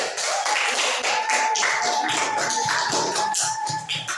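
A junior high class claps together in a classroom during a lesson, a lively run of fast, fairly close hand claps with uneven rhythm, continuing steadily for a few seconds without talking.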